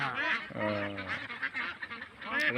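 Several Belgian white ducks call loudly nearby on a duck farm, a jumble of harsh, honking quacks overlapping in quick bursts, with some held nasal notes.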